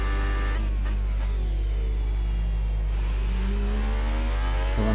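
Toro Rosso Formula 1 car on super soft tyres in F1 2018, lapping Bahrain: a loud, steady onboard engine drone with pitch sweeping down and climbing again through gear changes, continuous throughout with no talk.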